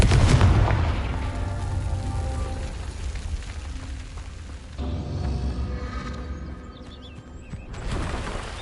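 A Confringo explosive spell in Hogwarts Legacy on PS5 bursts as a loud, deep boom at the start. A rumbling, crackling blast tail follows and fades, with a second swell near the end.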